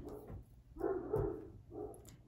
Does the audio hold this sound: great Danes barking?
yes